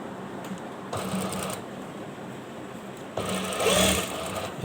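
A sewing machine runs in two bursts of stitching along a shirt cuff, a steady close mechanical whir with a short pause between runs.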